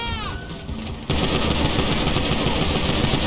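Rapid machine gun fire in GTA 5 bursts in loud and close after a brief whooshing lead-in, then keeps up a dense continuous rattle to the end.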